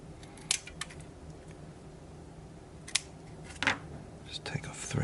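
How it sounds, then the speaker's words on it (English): Scissors snip pieces of Scotch tape in a few sharp, close cuts and crinkles, spaced apart, with a quiet voice speaking at times. "So I'll just cut off some pieces of this Scotch tape"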